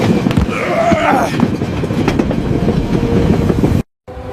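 A train rumbles steadily along with rattling, clattering wheels and a high squeal, loud and close, cutting off abruptly near the end.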